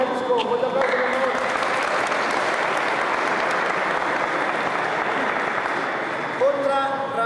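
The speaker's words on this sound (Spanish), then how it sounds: "Fuerte aplauso, señor." A crowd applauds loudly and continuously at a frontenis tournament, a dense wash of clapping that holds steady throughout, with a voice briefly heard at the start and end.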